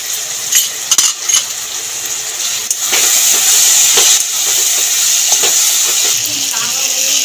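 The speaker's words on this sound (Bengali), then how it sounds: "আদাটা দিয়ে আদাটাও নেড়ে ছেড়ে ভেজে নিয়েছি" Ginger paste fries in a pan with prawns, onion and garlic, giving a steady sizzling hiss with sharp metallic clinks and scrapes of stirring that swell louder midway.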